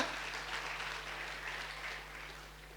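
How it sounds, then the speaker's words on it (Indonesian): A church congregation claps steadily and enthusiastically in a reverberant room, a dense wash of applause that slowly fades toward the end. "Tepuk tangan bagi Allah kita."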